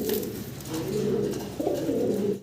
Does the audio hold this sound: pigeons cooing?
yes